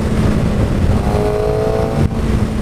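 Engine of a 2015 Suzuki GSX-R600 sport motorcycle, a steady loud drone with a thin rising whine layered on top that cuts off abruptly near the end.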